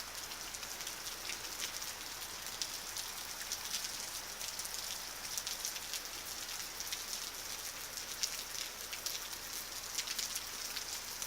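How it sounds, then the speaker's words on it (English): Heavy, steady rain pours down outdoors during Hurricane Matthew, a dense unbroken hiss of drops striking surfaces, close and continuous with no talking. "Rain is getting heavier,"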